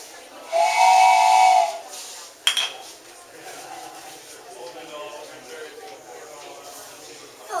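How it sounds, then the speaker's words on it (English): A loud, shrill steam train whistle blows for about a second at a train station, followed by a clank and softer hissing and rattling, with voices in the background. "President Wilson and his guide at the train station."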